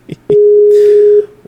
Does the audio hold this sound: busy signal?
yes